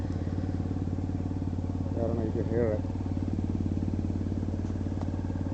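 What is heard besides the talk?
Honda CBR F4i motorcycle engine making weird knocking sound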